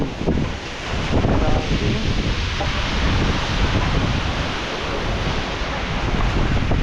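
Strong wind blows outdoors near coconut trees, a steady loud roaring rush with rustling and no talk.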